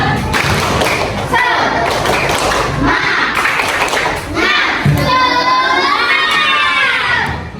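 A school class performs a rhythmic spirit clap together, loud and close, with patterned bursts of clapping mixed with children's shouts and voices throughout.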